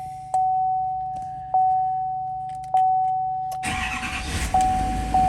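A truck engine cranks repeatedly in the cold, with several sharp starter bursts, each followed by a steady warning chime, before the engine catches and settles into a rough, loud idle.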